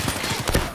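Rapid automatic gunfire in Black Ops 3, a quick rattling burst of close shots in fast succession, loud and punchy over a short span.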